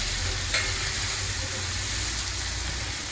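Dry spice powders of red chilli, turmeric, asafoetida, garam masala and coriander-cumin go into masala frying for malai kofta, with a loud, steady hiss of sizzling oil and a brief stirring scrape, close by and with no talking.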